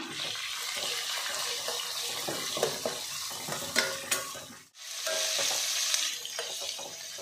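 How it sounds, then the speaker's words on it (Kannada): Chilli, curry leaves, chopped onion and ginger fry in a pan with a loud, busy sizzle and repeated stirring scrapes, the crackle dropping out briefly near the end before resuming. "ಈಗ ಇದೆಲ್ಲ ಸ್ವಲ್ಪ ಫ್ರೈ ಮಾಡ್ಕೊಳ್ಳೋಣ"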